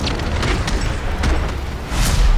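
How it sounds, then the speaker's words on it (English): A fast-running Boomschreier zombie in Call of Duty: Vanguard Zombies blows up in a loud, rumbling blast that rolls on as a dense, noisy roar, with a heavy low thump near the end. "These are zombies that will run real quick and explode in contact"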